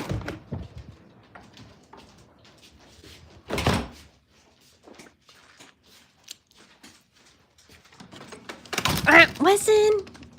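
A door being pushed open in a home setting, with a sharp thump and rattle, then scraping and a creaking swing, amid quiet talk and small household noises.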